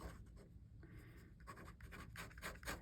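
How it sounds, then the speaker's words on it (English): A red pen writes big letters on paper, producing close, rapid scratchy strokes in short irregular bursts with brief pauses between them. "I need to write in big letters"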